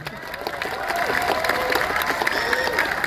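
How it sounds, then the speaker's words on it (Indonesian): A crowd at a governor's year-end speech in Bali applauds and cheers, a steady wash of clapping with raised voices and whoops rising over it, dense and fairly loud. "Tepuk tangan untuk Bali."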